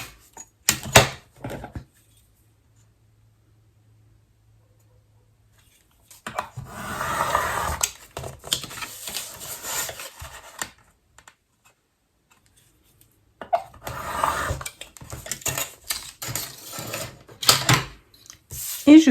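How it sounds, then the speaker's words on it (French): Paper card being cut along its outline, short bursts of crisp snipping and rustling separated by near silence, close and fairly quiet. "Je vais ensuite découper tout le contour."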